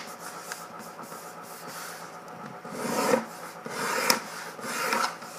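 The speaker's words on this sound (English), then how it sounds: "Give it a nice, good, strong crease, just like that." Paper for an origami swallowtail butterfly is pressed flat with rubbing strokes, a soft close scraping hiss that swells into a few firmer creasing swipes with no talking.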